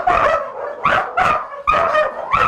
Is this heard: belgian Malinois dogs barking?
yes